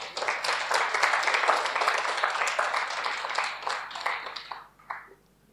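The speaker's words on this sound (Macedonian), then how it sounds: "Аплауз за Исус, може?" A church congregation applauds during a sermon: dense, steady clapping from many hands for about five seconds, easing off near the end.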